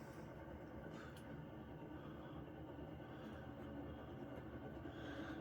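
Hunter Sea Air ceiling fan running on medium, its worn bottom bearing making a steady, dense rumbling rattle that stays at an even, fairly quiet level throughout.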